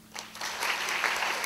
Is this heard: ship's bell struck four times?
no